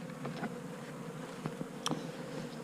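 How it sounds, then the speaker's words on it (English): Honey bees trapped inside a bee vacuum buzz in a continuous low drone, with a few sharper knocks and clicks rising briefly above the steady hum. "you can see how I sucked up all these bees real quick in here"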